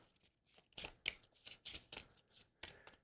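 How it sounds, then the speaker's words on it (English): Playing cards shuffled by hand for a solo tabletop game of Neon Reign, giving a series of crisp riffling bursts and soft snaps in an uneven rhythm, close and moderately quiet. "When shuffling is the most exciting part."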